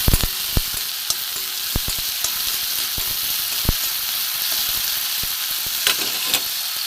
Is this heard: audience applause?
no